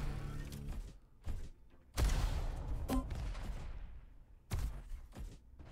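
Rocket blasts and gunfire in a Diabotical arena match: several loud sharp bursts with ringing tails and rapid shots between them, separated by brief quieter gaps.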